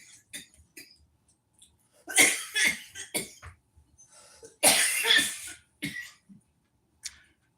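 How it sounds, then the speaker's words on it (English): A person coughs in several rough bursts, short hacking fits separated by quiet gaps, with a harsher double cough near the middle and a lone cough toward the end. "You hear that coughing?"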